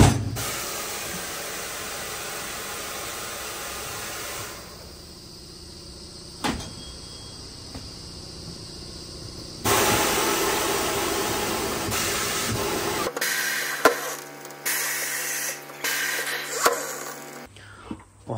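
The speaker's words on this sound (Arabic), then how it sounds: "وهاي طلعنا التاير من الويل عن طريق هذا الماكينة" A tire changer machine in a tire workshop in Belgium removing a tire from a wheel: a loud, steady mechanical whir that shifts in pitch and level, with occasional clunks and thumps near the end.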